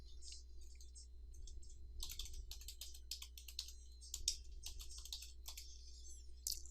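Typing on a computer keyboard while searching for a supervisor's name in a faculty evaluation form. Two quiet runs of light, rapid key clicks ride over a steady low hum, with a brief gap between the runs.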